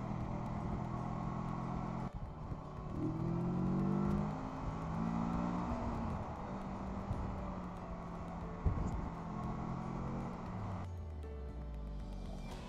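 Motorcycle engine running steadily while riding on a road on the last summer day, a continuous close drone with shifting rev pitch and brief throttle changes, no talk over it.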